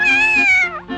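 A cat gives a single loud, close meow that holds steady for most of a second, then bends downward and trails off into a short second call.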